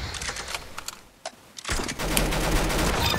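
Rapid bursts of automatic gunfire in the Roblox shooter Arsenal, loud and dense, with a brief lull before a sustained, continuous barrage fills the rest of the moment.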